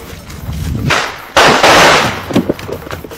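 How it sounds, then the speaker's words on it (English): Gunshots in a Nollywood comedy scene, a sharp loud blast followed by a sustained crackling burst, then a few scattered pops amid background voices. "Now sound of gun."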